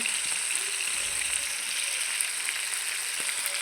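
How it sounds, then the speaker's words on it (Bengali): Chicken meat frying in a pan makes a bright, even crackle that carries on steadily and close by, with small pops scattered through it. "দেখতে পাচ্ছেন খুব সুন্দর করে মাংসগুলা ভেজে নিতেছে"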